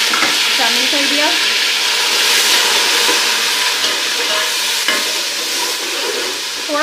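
Onions fry loudly in a pan with garlic ginger paste, a continuous close sizzle broken by occasional scraping of a spoon as the mixture is stirred, with a faint voice now and then.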